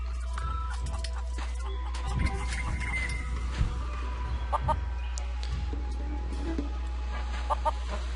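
Chickens cluck in short, scattered bursts over a steady low hum, with a few brief higher chirps near the end, from the video game The Curse of Monkey Island.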